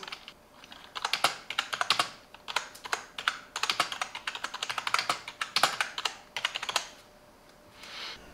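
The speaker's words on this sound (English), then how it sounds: "Keyboard keys are good for typing and gaming." Keys clatter on a Silvercrest gaming keyboard in quick, uneven bursts of close, crisp clicks, pausing briefly now and then and stopping just before the end, with no voices.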